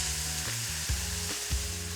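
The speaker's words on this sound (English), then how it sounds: "now I'm going to carefully pour it over the ribs" Hot liquid sizzles and bubbles loudly, close up, with a few soft thuds as it is poured over beef ribs in a pan; no voices.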